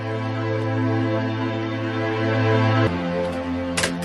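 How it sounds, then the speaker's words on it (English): A sustained, dark analog synthesizer pad with steady droning tones, shifting slightly near the end as a brighter wash briefly flares; no voices. "messed with the knobs and the filters until I got this sound"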